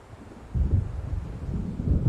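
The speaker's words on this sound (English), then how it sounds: "It seems there's a storm coming." Low rumbling thunder of an approaching storm in the video game Alan Wake, swelling after a quiet half-second and rolling on steadily with a windy, distant murmur.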